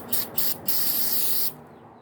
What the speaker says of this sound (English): spray some on the wash rag there